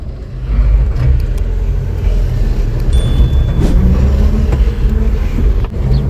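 A car being reversed: a steady loud engine rumble close by, idling and moving slowly without strong revving, holding constant throughout with faint clanks in the background.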